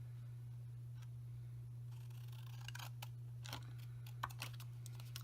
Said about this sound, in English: I want to cut out a little tag. So I'm just going to freehand cut out